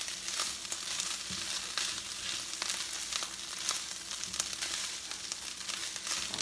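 Tomato paste sizzles and fries in a pot for Puerto Rican arroz con gandules, a steady crackling hiss with small stirring scrapes throughout, close and moderately quiet.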